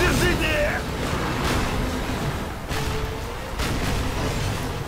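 Tanks exchange fire in the Call of Duty video game, with muffled booms and rumbling blasts heard under someone talking throughout.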